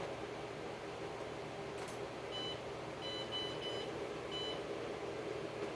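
IBM Aptiva 2140 motherboard giving a short series of clean electronic beeps after trace repairs, several spaced tones over a steady fan hiss, with no talk.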